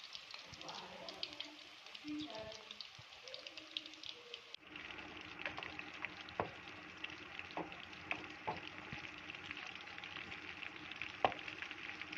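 Chicken kofta meatballs fry over a low flame in a pan, giving a soft, steady sizzle with scattered light crackles and a few utensil taps, fairly quiet throughout.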